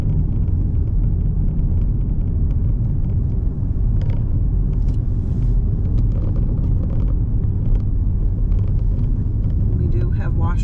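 A car's steady, heavy engine and road rumble fill the cabin while driving down toward the Long Beach viewpoint at Fundy Trail Provincial Park, continuous and close, with occasional faint speech over it.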